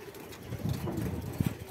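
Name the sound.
flock of pigeons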